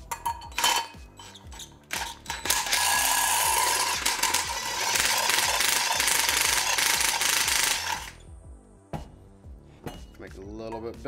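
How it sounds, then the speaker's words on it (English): Power drill boring a hole through the side of a plastic tail light cup for a Mitsubishi 3000GT, a sustained whining buzz for several seconds bracketed by short bursts, clicks and handling clatter. "all we have to do now is drill a hole in the side of the cup to run the wires through for the LEDs"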